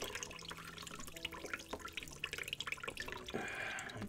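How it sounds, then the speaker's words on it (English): Water runs and drips softly during a close-up ASMR hair wash and shampoo before a haircut, with quiet trickling, scattered splashes and a steadier gush of flow near the end. "Let me just get your hair washed up here."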